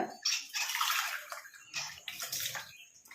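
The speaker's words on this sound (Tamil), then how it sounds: "கொஞ்சம் தண்ணி ஊற்றிக்கலாம்" Water splashes and pours in short bursts, close by and fairly soft, with a brief pause between pours.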